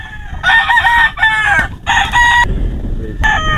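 A three-year-old Harold Brown Gray gamefowl broodcock, green-legged with a straight comb, crows loudly and close by in several long bursts separated by short pauses.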